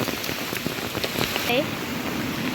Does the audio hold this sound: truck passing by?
no